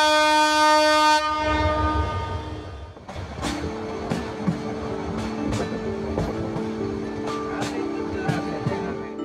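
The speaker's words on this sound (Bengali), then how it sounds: "ঢাকা থেকে ছেড়ে আসা কক্সবাজার অভিমুখী কক্সবাজার এক্সপ্রেস ট্রেনটি 1 নম্বর প্ল্যাটফর্মে।" The Dhaka–Cox's Bazar Express passenger train at platform 1 of a station sounds a long, loud horn blast, then low rumbling with sharp metallic clanks and squealing tones as the carriages move along the platform.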